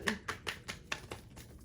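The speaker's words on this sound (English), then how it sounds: "So let's give it a shuffle." A tarot-style oracle card deck being shuffled by hand, giving a rapid run of about seven crisp, papery riffle bursts in quick rhythm, close and fairly quiet with no talking.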